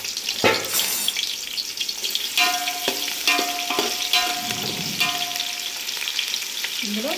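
Onions and biryani masala fry in oil for chicken mandi, a steady sizzle broken by the clatter and scrape of a spoon stirring the pan, with no voice present.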